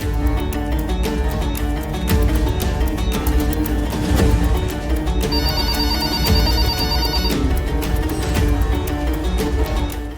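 A telephone rings in a television drama scene, its repeated electronic ring sitting over a continuous music score, loud and unbroken, with no speech.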